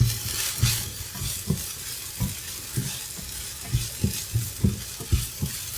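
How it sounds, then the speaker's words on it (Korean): Scallion and paprika stir-fry in perilla oil in a pan as tofu and egg cook, with a steady sizzle. A spatula scrapes and stirs in a loose rhythm of about a dozen soft strokes, with no talking. "여기에 아까 있던 파, 그리고 파프리카까지 모두 넣습니다"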